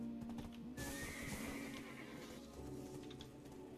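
A horse in the online game Black Desert Online gives a loud neigh, followed by a steady clip-clop of hooves as it moves, all heard close up with no talking.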